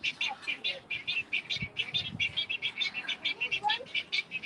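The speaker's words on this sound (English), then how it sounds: "there's another nesting egret right there. How cool. I can hear it chirping a little bit." A nesting egret at an alligator park gives rapid, rhythmic chirping calls, a steady run of short repeated notes close by, with faint outdoor background.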